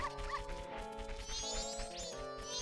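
A dog barks a few times in The Legend of Zelda: Majora's Mask, with short yips near the start of a brief stretch over busy game music and effects.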